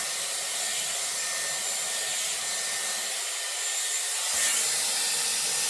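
A Dyson Airwrap hair styler blows air through a round brush in a steady, close, continuous whoosh, with a small surge near the end and no talking.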